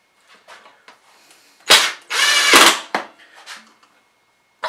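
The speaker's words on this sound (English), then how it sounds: "then I'll use this Craig jig to clamp them to each other" A Kreg jig clamp tightened onto wooden boards at a workbench while building shelves. A few faint clicks are followed by two loud, close mechanical clamping snaps, then quieter clicks and handling noise.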